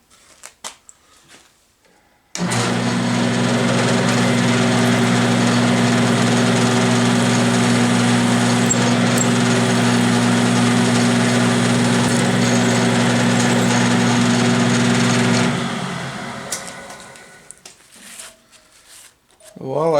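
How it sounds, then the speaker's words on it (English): A milling machine drills a number 7 tap drill hole for a 1/4-20 set screw in a lathe dial indicator mount. Its motor hums loudly and steadily, close by, for about thirteen seconds, then winds down and stops. "back over to the mill and drill the balance of the holes"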